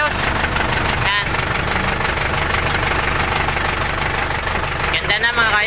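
An Isuzu 4BE1 diesel engine runs after a cylinder head gasket, piston and piston ring job, a loud steady idle with a rhythmic knocking clatter, close to the mic as someone talks over it.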